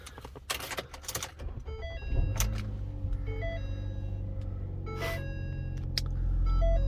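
A 2012 Ford Fusion SEL starting up: chimes and clicks from the dash, then the engine catches and settles into a steady low idle that swells slightly near the end.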